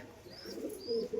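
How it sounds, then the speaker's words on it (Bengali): Soft low pigeon coos, a couple of gentle rolling calls close by, with faint higher chirps above them. "এই যে পায়রাগুলো দেখছো"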